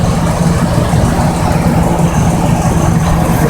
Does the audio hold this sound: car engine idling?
yes